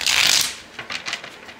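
A quick riffling shuffle of tarot cards, loud and close, followed by a few softer flicks and taps as the deck settles.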